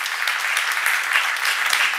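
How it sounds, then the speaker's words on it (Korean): A church congregation breaks into sustained, dense applause at a seminar, many hands clapping together steadily and loudly for the whole stretch, with no voice heard over it. "담대하게 말할 수 있는 사람만 박수 한번 쳐요."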